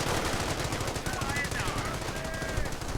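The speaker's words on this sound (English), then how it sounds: "MG42 stunning the advance." An MG42 machine gun fires in a real-time strategy war game. A rapid, continuous rattle of bursts runs throughout, dense and fairly loud, with battle noise under it.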